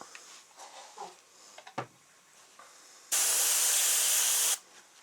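A steady, loud spray-paint hiss lasting about a second and a half onto a taxidermy pheasant's lower toes, preceded by faint handling noises and a soft brush tap.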